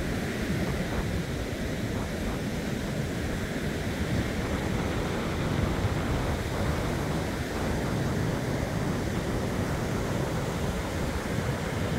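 Sea swelling into large waves along a shore, a continuous broadband roar of surf mixed with wind buffeting the microphone, steady and loud throughout with no voices.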